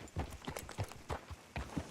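Horse hooves clip-clop in a steady, even trotting rhythm on a road in Red Dead Redemption 2, the close thuds repeating about every quarter second with no voices.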